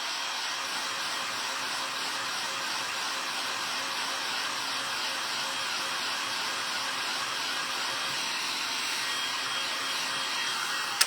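A hair dryer blows steadily to dry paint, a loud continuous close-up whoosh of air that holds level throughout with no talking.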